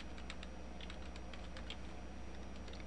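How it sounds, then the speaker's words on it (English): Quick, steady keystrokes on a computer keyboard as a fully qualified domain name is typed in a computer training session, a close, even run of clicks with no talking. "you actually have to type in the fully qualified domain name in this case"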